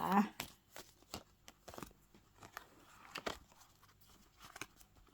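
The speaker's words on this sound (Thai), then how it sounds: "ขอเป็นตัวแทนจับไพ่ตัดไพ่ให้คนเกิดวันอาทิตย์นะคะ" Tarot cards are shuffled and cut by hand close up, a quick papery riffle with crisp slaps and flicks in short bursts, under a quiet speaking voice.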